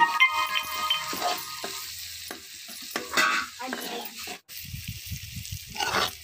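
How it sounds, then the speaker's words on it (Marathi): Green chillies and peanuts tempering in hot oil for a sour chuka greens dish, crackling sizzle with stirring scrapes and clicks, close and uneven, no talk. "आपल्याला ही फोडणी चांगली परतून घ्यायची आहे"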